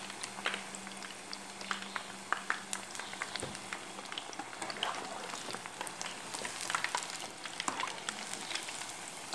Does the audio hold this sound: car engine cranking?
no